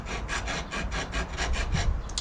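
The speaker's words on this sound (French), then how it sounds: "Et je vais donc couper directement sur le vélo." A handsaw cuts through a metal bicycle frame in steady back-and-forth strokes, about eight even rasping pulses, close and fairly loud with no talking.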